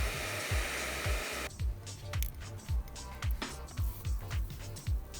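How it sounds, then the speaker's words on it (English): A hair dryer blows steadily to heat a sticker off a Game Boy Advance shell, its airy whoosh loud and close, joined by a run of regular low thumps after the first second or so. "to remove the sticker without damaging it, you just need to heat it with a hair dryer"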